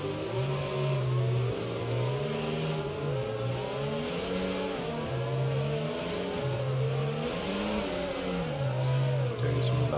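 F1 2022 racing cars accelerate together at a restart on the Abu Dhabi circuit, a dense, steady roar of multiple engines with rising and falling revving pitches sustained throughout.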